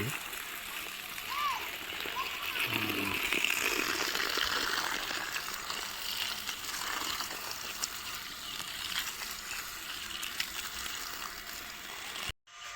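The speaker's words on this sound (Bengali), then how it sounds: "মোটর চালিয়ে তাই জল দেওয়া হচ্ছে" Motor-pumped water splashes and gushes steadily onto potato plants in a field, a continuous hissing spray with brief faint voices near the start and an abrupt cut at the end.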